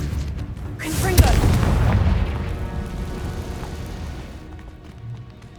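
A Confringo explosive spell blast in the video game Hogwarts Legacy, a loud booming burst that swells quickly and then rumbles and fades over several seconds.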